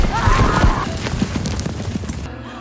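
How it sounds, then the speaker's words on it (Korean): Horse hooves clip-clop outside a room, a muffled run of thudding steps mixed with a brief whinny-like cry and a deep rumble, fairly loud, before cutting off into quiet. "이때 방 밖에서 말발굽 소리가 들려왔습니다."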